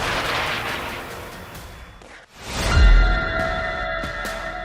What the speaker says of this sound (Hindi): जोरदार धमाके साफ देखे जा सकते हैं।